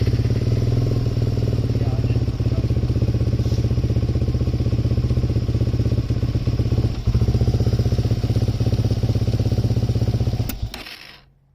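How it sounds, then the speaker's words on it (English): Suzuki LTZ400 ATV engine idling on a cold day, a loud, close, steady rough throb that stumbles briefly midway and then cuts off near the end. "It doesn't want to idle low very much, does it?"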